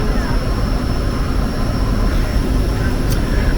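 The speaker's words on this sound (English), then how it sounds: "So after a short delay, we're finally on the plane." A passenger airplane's engines drone steadily and loudly from inside the cabin, a constant broadband roar with no breaks.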